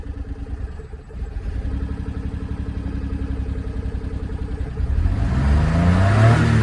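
A Subaru Justy 4WD idles with no muffler, giving a raw, rapid, uneven rattling putter that swells louder near the end as it is given some gas, with no talking.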